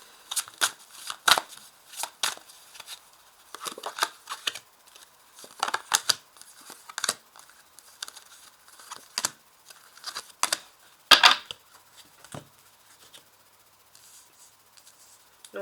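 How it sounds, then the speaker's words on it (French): Oracle cards are shuffled, flicked and laid down in a quiet room: irregular crisp snaps, riffles and soft slaps in scattered bursts with short pauses between, and no voices. "Donc j'ai 5 cartes que je vais placer dessous."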